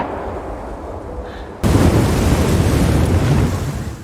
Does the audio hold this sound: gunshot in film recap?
yes